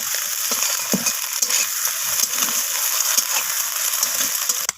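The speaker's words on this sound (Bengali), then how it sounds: "এরপর ডিমটাকে আমি নাড়াচাড়া করে খুন্তির সাহায্যে ডিমটাকে আমি ভুজিয়া বানিয়ে নেব।" Beaten egg frying with a pinch of salt in a pan while being stirred and broken up with a metal spatula into scrambled egg, giving a steady close sizzle broken by a few scraping taps.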